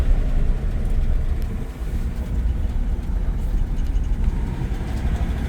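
A 1964 Ford F100 short-wheelbase pickup lugging its engine in a tall second gear, a constant deep, heavy drone with rumbling road and wind noise and no distinct revving changes.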